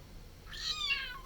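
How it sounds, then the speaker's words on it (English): A single cat meow, drawn out and slightly rising then falling, fairly faint over a quiet background hum. "Meow."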